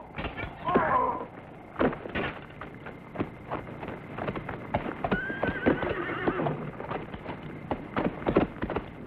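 Horses whinny and snort while hooves clatter on hard ground, with scattered voices and bustling movement mixed in at moderate volume.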